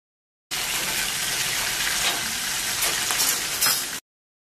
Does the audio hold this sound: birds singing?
no